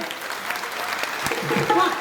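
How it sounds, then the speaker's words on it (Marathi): An audience at a women's wrestling event in Paranda claps in a sustained burst of applause, with crowd chatter mixed in and a louder swell of clapping at the very end. "त्यांच्यासाठी एकदा जोरदार टाळ्या"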